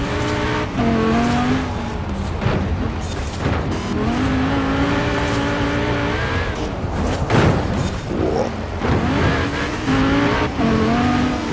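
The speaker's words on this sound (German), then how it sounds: "Oh, ein Hot Rod." Hot rod engine racing in Forza Horizon 4, a loud sustained roar with rising and falling revs and gear changes, tire squeal and other cars passing close by, no voices.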